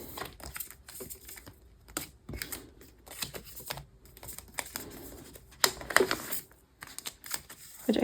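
Photocards handled and slid into plastic binder pages, close, irregular crisp clicks, flicks and rustles of card and sleeve, with no talking.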